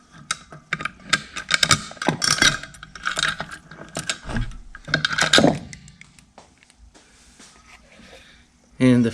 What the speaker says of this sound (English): And then we can just loosen up our clamp.